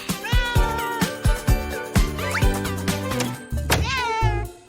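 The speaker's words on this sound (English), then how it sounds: "This cat already comes with kittens." A mother cat with kittens gives a run of clear, close meows, short rising and falling calls repeated in a quick uneven rhythm, with a few soft thumps and a longer drawn-out meow near the end.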